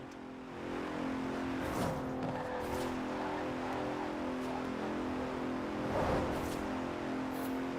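A Bentley Continental GT grand tourer drives in the game Forza Horizon 4, its engine holding a steady, harmonic-rich drone with a few swells of acceleration and faint tire noise.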